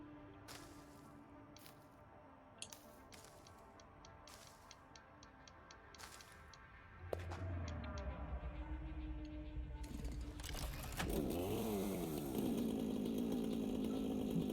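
A chainsaw in the factory-building game Satisfactory revs and grinds steadily for several seconds, loud and continuous, following a stretch of quieter ticking and clicking sounds.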